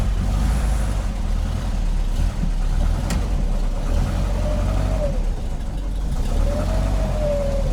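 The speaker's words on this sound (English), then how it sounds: "that's with the clutch in. And that's the noise from the transmission." A Porsche Speedster's transmission whines with the clutch pedal held in, over a low, steady engine rumble. A faint tone rises and dips twice in the second half, and no one talks over it.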